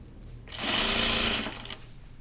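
A sewing machine runs in one steady burst of about a second, stitching a straight-grain frame around dress vents, with quiet room tone before and after.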